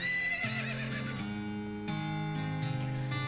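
A horse neighs and whinnies in the West of Loathing video game, the drawn-out call rising and falling over a steady musical backing, loud and close with no talk.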